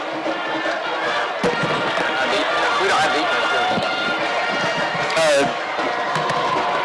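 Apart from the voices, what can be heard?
crowd at high school football game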